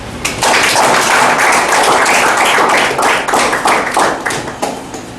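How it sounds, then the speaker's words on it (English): A small audience applauds after a humorous speech at a Toastmasters meeting, with steady, close clapping of many hands that swells quickly, holds for several seconds and then thins out to scattered claps. "Let's give him one more big round of applause"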